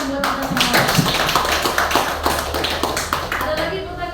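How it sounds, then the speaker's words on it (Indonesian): Teachers in a school workshop clap their hands together in a steady round of applause lasting several seconds, with voices talking over the claps. "Oke, tepuk tangan buat kita semua."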